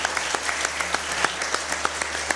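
Audience in a studio hall applauding, with distinct individual claps standing out sharply over a continuous bed of clapping, fairly close and loud, steady for the whole stretch.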